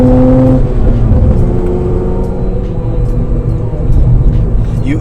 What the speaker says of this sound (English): It's just a tire making a lot of that noise, road noise, tire noise.